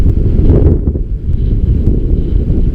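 Loud, low rumbling buffets of wind batter the microphone continuously, with gusting surges and no voices, outdoors while fishing.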